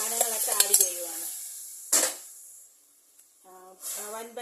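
Cooked cowpeas and pumpkin are tipped into a hot pan for a Kerala erissery and stirred, giving one sharp clatter and scrape between stretches of a voice speaking nearby.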